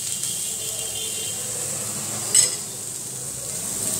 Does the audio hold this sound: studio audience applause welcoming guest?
no